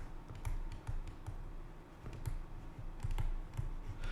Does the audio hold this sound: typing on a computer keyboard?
yes